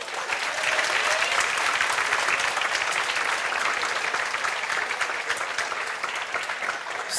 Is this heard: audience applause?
yes